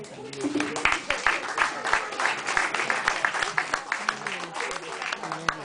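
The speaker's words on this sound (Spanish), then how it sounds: "un aplauso para ellos" Audience applause for poets at a café arts space, uneven clapping from a small crowd with distinct sharp claps standing out near the listener, and voices murmuring underneath.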